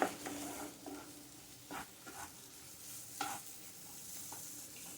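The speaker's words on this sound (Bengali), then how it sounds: "মশলাটা আমার কষানো অনেকটা হয়ে গেছে আর একটু কষবে" Spice masala fries in a pan for a paneer and potato dish, with a soft continuous sizzle and a few scraping stirs of a spoon at intervals, close but fairly quiet.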